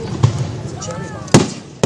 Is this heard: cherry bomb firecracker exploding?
yes